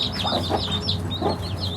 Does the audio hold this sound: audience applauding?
no